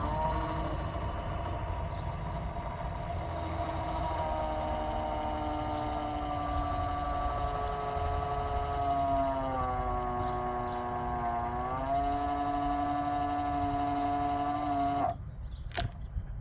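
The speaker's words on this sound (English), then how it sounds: "my very crude electrical switching gear involves just touching two wires together, and the motor turns." A small electric switch machine motor on a model railway whines steadily for about fifteen seconds, its pitch dipping slightly near the end before it stops abruptly with a faint click.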